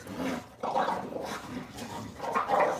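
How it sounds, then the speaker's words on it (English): An American Bully dog outdoors lets out close, gruff barks mixed with low growls and whimpering noises, coming in several rough bursts with no talking over them. "I'm outside with dogs."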